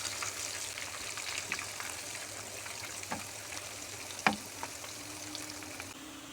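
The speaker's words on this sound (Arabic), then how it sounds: "كده الزيت سخن معانا، ننزل بقى بالبصل" Onions dropped into hot oil fry with a faint, steady sizzle, punctuated by a few soft clicks and one sharper knock.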